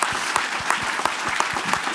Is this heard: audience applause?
yes